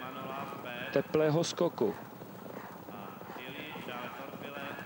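Horses gallop toward a small ditch obstacle on a steeplechase course, their hooves drumming in a brief burst of beats near the start while a race commentator talks over the whole stretch.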